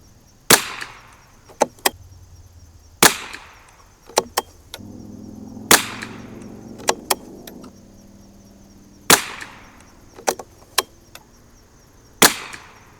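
A 1972 Anschutz Model 54 Match rifle fires .22 rimfire rounds, sharp, loud single cracks spaced a few seconds apart, each followed by softer bolt-cycling clacks.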